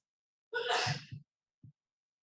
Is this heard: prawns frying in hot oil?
no